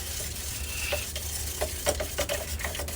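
Oxide primer paint is stirred in a can, producing soft wet scraping and knocking sounds in an uneven rhythm over a steady low hum, close and without talk.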